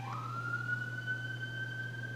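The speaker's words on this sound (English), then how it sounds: "There's a lot of sirens and a lot of movement from upstairs." A siren wails from a distance, its tone rising and holding steady over a low constant hum, with no talking.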